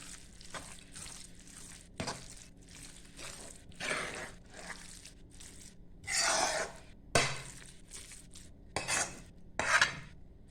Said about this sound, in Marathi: हे हे बी मिक्स करून घेऊयात आता आपण